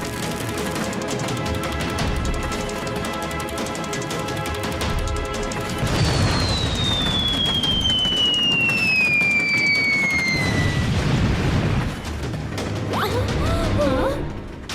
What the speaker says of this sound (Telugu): అరే వాళ్ళు ఫిరంగి దాడి చేస్తున్నారు.